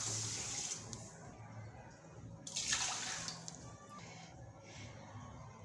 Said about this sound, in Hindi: इसमें 2 कप ही हम पानी ऐड करेंगे।